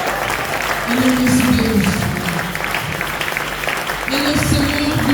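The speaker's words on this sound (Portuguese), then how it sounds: "Se você crê, aplaude o Senhor." A church congregation claps throughout the sermon, a steady applause running beneath a preacher's amplified voice.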